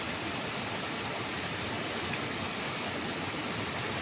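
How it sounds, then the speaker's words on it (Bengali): Heavy rainwater in Assam's Dima Hasao district pours down from above with great force, making a loud, steady, unbroken roar of rushing, crashing water like a waterfall, with no pauses and no voices. "জাস্ট দেখো উপর থেকে কি প্রচণ্ড বেগে জল বেগে পড়ে পড়েছে জলের কি প্রচণ্ড গতি দেখো"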